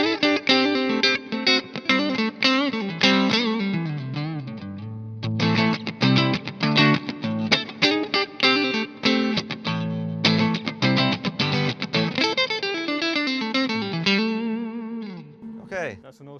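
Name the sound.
single coil electric guitar played through amp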